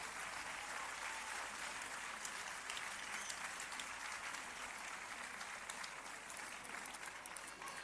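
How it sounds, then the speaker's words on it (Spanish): Sustained applause fills a team presentation event for a women's handball club, a dense even crowd of clapping hands, fairly distant and soft, continuing steadily without speech. "Un aplauso, por favor"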